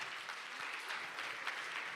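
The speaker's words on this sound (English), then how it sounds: "And a round of applause, please, for Wanja." An audience at a book launch for Martha Karua's "Against The Tide" gives a faint, steady patter of clapping for Wanja that lasts the full two seconds.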